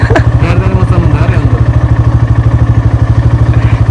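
A motorcycle engine thumps in a fast, steady rhythm close by as it rides over rough ground, loud and continuous, with some faint voices mixed in.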